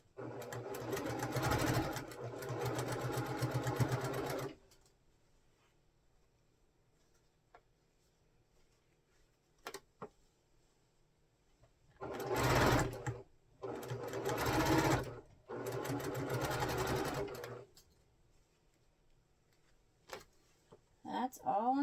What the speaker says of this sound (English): So I'm just going to sew these all the way down on this first row.